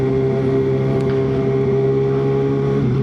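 Kawasaki ZX6R motorcycle engine running at low RPM, a steady, smooth, fairly quiet drone with even harmonic tone held throughout, close and alone without talk.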